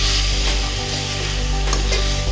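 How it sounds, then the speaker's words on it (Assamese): Fried jackfruit seeds are stirred in a pan with ginger-garlic masala paste for a fish curry, giving a loud, continuous close sizzle with soft scraping strokes and no talk. "এইখিনি 2 মিনিটমান সময় এনেকৈ লৰাই থাকিম।"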